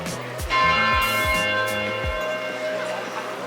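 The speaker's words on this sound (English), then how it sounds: "I don't know why the 10 o'clock bells are chiming right now. But like, both of the churches did it." Church bells ringing in Dresden, with several churches chiming together; loud, sustained peals with rich ringing overtones swelling in after a brief moment and filling the scene.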